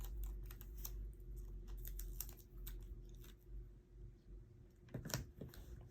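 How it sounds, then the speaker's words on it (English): Adhesive tape is pressed onto a paper graduation fan in a quiet room. Soft, irregular close taps and light crackles come in small clusters, with a louder burst of tape handling near the end. "you just put the tape on there"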